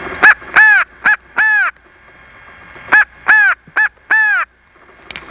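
American crows give their feeding call, a two-note pattern of a short caw followed by a longer one. Two nearby groups of four loud, harsh caws are separated by a short pause, with a faint background hum.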